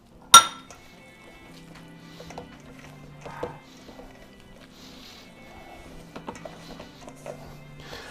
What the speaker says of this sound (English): we're just going to mix it up, and at this point I'd like to throw the olives in